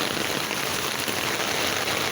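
Steady, dense rain beats on surfaces up close as a continuous hiss outdoors near a cathedral, with no voices.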